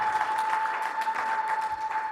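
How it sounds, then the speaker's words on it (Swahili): A church congregation at a Sunday service claps steadily in a dense, continuous patter, with a thin sustained tone running underneath; no ululation stands out clearly and no one speaks. "Sasa napenda ushangilie Bwana kwa makofi na vigelegele."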